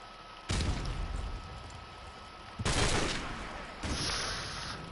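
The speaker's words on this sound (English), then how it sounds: "So many explosions." Gunfire and explosions in Call of Duty Modern Warfare Remastered: three loud bursts of rapid shots and blasts arrive in separate waves over a constant battle rumble, with no talking.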